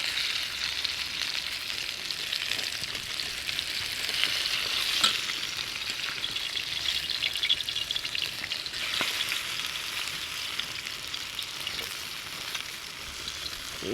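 Pumpkin saltfish fritters fry in hot oil in a pot over a red-hot fire, a steady, moderately quiet sizzle with occasional crackles and pops and a brief stir or flip partway through.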